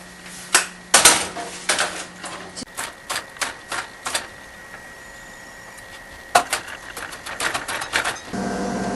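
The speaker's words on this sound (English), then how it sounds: "Now we'll start off by chopping up some garlic." A knife taps rapidly against a cutting board chopping garlic, in bursts of quick, sharp chops, with a short pause between runs.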